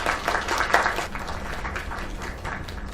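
An audience at a small live music event applauds, a steady wash of many clapping hands with scattered cheers, continuous throughout.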